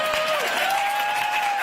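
Studio audience applause at a live talk show, dense clapping and crowd noise sustained throughout, with a faint tonal whistle running above it.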